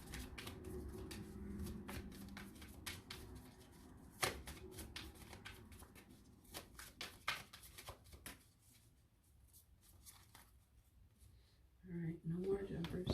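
Tarot cards being shuffled close up, a steady riffling patter of cards sliding and tapping together, with a few quieter pauses and a voice talking over it.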